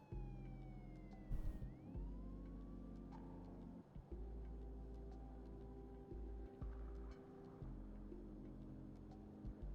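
Sirens wail in a metaverse roleplay setting, rising and sliding tones drifting over a steady low rumble and ticking, continuous and fairly prominent throughout.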